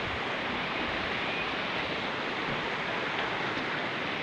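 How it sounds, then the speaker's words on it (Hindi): River water rushes steadily beneath a footbridge on a mountain footpath in Rudraprayag, Uttarakhand, a continuous close wash of broadband babbling with no voices. "ये पानी कितना कलकल की आवाज़ें करते हुए हमारे मन को मुग्ध कर रहा है।"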